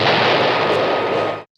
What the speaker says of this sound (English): that was a cannon that used gunpowder